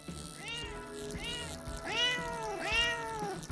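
A small kitten character in an indie video game meows four times, high, drawn-out and tonal, the later cries louder and closer, with no talking over them.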